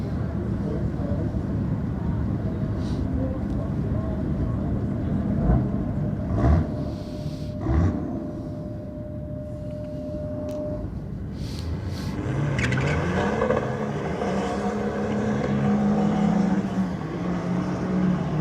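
Diesel drag race cars launch and run side by side down the strip at Sydney Dragway on a diesel theme night, a sustained loud engine rumble with rising revs and a whine near the end, heard under commentary.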